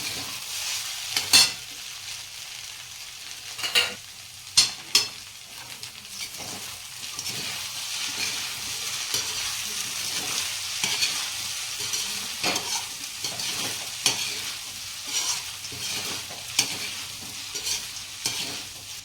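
A spoon stirs and scrapes through spices and red chilli powder sizzling in a pan for batata poha masala, with occasional sharper clanks against the metal over a steady frying hiss.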